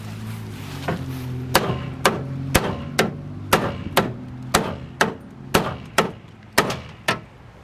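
Sharp metallic hammer blows strike the hollow body panel of a wrecked SN95 Ford Mustang about a dozen times in a steady, evenly spaced rhythm, loud and close with no talking.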